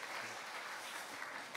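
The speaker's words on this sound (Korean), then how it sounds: "박수 보내주시면 감사하겠습니다." Applause from a church congregation for a women's choir after its hymn, a dense, steady wash of clapping held at an even level for a brief stretch, with no voices over it.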